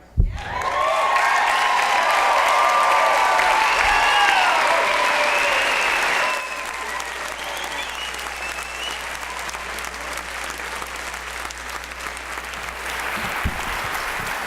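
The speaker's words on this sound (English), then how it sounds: "if we could have another round of applause for all the speakers tonight" Audience applause after a talk at an Ignite Lincoln 8 event in 2016: a full, loud burst of clapping for about six seconds, then it thins to a quieter, scattered patter over room noise.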